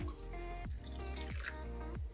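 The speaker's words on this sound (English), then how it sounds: "I'm going to add some water." Water poured into a bowl of spicy sauce, faint gurgling and dripping in a few quick pulses, close and quiet.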